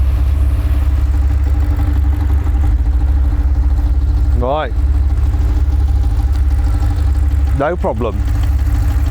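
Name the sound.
BMW and Lexus V8 engines running without oil, tapping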